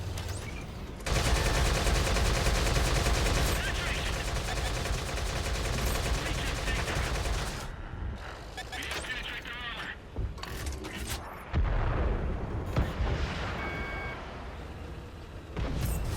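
Video game tank battle with bursts of machine gun fire and heavy cannon shots, loud and close, a sustained barrage followed by scattered blasts, with someone talking intermittently over the combat.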